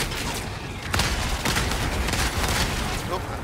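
In the game Helldivers 2, a player blows himself up, giving a loud, rough blast with crackling bursts and rumble, a few sharp booms standing out over dense, noisy battle sounds.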